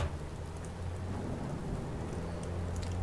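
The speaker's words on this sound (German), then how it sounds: "Oh, es regnet." Steady rain patters in the game Watch Dogs, a soft continuous hiss with a low rumble underneath, no voices.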